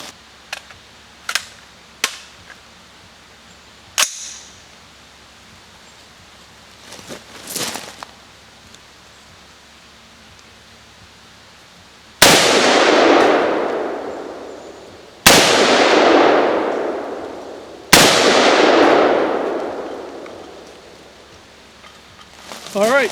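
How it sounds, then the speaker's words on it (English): An AR-15 rifle with a Slide Fire stock fires single shots outdoors. Several sharp cracks come first, followed by three loud, widely spaced reports that each ring out in a long, decaying echo. "whether or not the rifle will function in its normal manner in the single shot mode"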